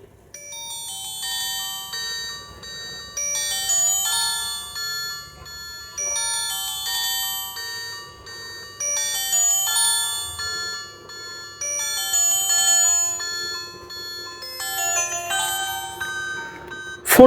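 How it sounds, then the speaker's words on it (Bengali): A GDL G7 button mobile phone plays its melodic ringtone, bright chiming electronic notes repeating in looping phrases, fairly loud and close, with no voices over it. "আমরা রিংটোনের শব্দটা একটু শুনবো ফোনটির।"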